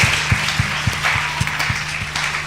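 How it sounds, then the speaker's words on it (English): A crowd applauds steadily, a dense wash of clapping with a few louder individual claps standing out, continuing without pause for a couple of seconds. "please round of applause for that amazing answer"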